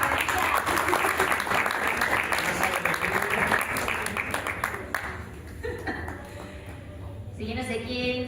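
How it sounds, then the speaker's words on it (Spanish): Audience applause for María at a Spanish dubbing talk with the voice actors of Spy x Family, a steady crowd clapping that runs several seconds and thins toward the end, with voices mixed in. "también aplauso para María."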